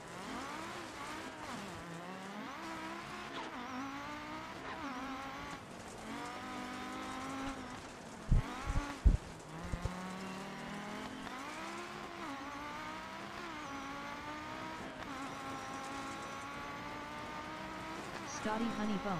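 Volkswagen ID.R electric race car climbing Pikes Peak, its rising and falling electric whine sweeping up and down in pitch with faint tire noise, distant and quiet, with a few sharp knocks partway through.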